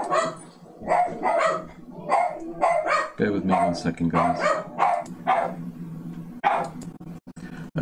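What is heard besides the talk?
dog barking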